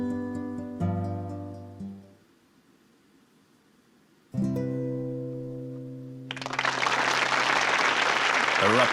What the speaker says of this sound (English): Erupts in applause.